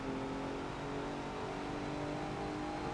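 Car engine revving and accelerating in the racing game Forza Motorsport 7, a steady droning engine tone with rising harmonics held for the whole stretch, no voices.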